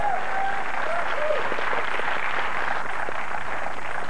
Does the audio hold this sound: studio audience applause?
yes